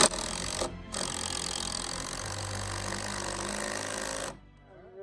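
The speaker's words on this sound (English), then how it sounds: "let's see if we can drill this right through it." A power drill grinds steadily through a metal lattice, a loud continuous whir lasting about four seconds with one brief pause near the start, then cutting off to near silence.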